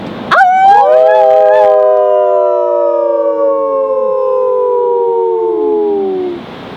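Several people howl together in imitation of a wolf at a haunted bridge during an overnight visit, a loud sustained chorus of wavering howls that rises, holds and slowly falls away over several seconds.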